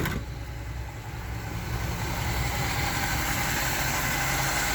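A 1962 Chevy Impala engine idles steadily after starting up, a continuous low rumble with broadband mechanical noise that stays even and close throughout.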